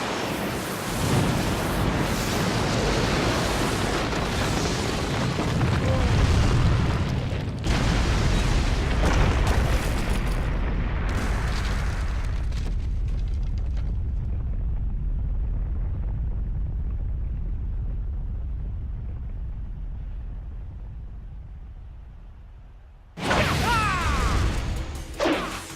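Fire-style jutsu explosions in the Naruto Shippuden Storm Revolution video game: loud roaring blasts and crashing whooshes that fade into a long dwindling rumble, then a sharp burst of impact noise near the end.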